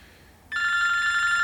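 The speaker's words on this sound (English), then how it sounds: "Of course my phone's ringing." A mobile phone rings indoors, its steady electronic ringtone starting abruptly partway through and continuing loud and close after a quiet room tone, with no talking over it.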